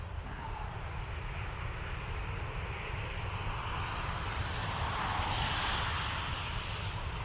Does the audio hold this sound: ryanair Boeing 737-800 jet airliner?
yes